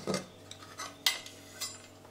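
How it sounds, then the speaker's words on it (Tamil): A home kitchen pressure cooker, its steam already released and green gram rice inside, has its metal lid opened with a few light metallic clinks and knocks spread over about two seconds, fairly quiet and with no talking. "குக்கரை திறந்து பார்க்கலாம்."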